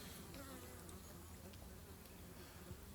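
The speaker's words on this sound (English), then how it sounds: "the sun's shining and the bees are pretty keen to fly" Bees flying around a mini nuc hive on a cold, sunny winter day, a steady dense buzzing hum from many insects, continuous and close.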